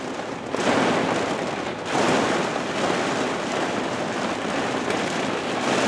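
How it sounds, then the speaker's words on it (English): Rain falling at a car charging station in Baton Rouge: a steady, dense hiss of rain on surfaces, swelling in loud bursts, with no talk. "I hope at some point the rain lets up"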